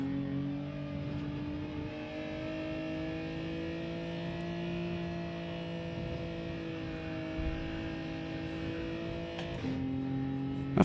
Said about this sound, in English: just revving it constantly in third there